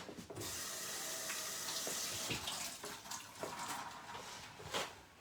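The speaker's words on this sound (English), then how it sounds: "I'm going to wash my hands." Tap water runs steadily into a kitchen sink as hands are washed, a continuous close hiss with small splashing shifts and faint clicks.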